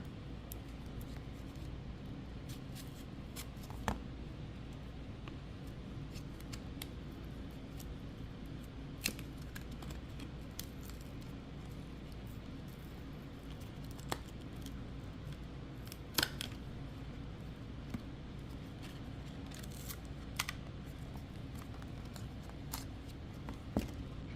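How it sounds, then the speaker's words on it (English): A plastic prying tool works around the edge of a Revvl V Plus 5G phone screen during a teardown, making faint scattered clicks and snaps over a quiet low hum, with no voices. "use a plastic tool. Alright, work your way around."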